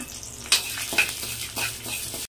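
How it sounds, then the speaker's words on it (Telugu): Fenugreek seeds roasting in oil in a pan, a soft continuous sizzle broken by several crisp scraping knocks of a spoon stirring against the metal, close and without talk. "నూనె వేసిన తర్వాత మెంతులు వేసుకుని వాటిని కూడా బాగా వేయించుకోవాలి."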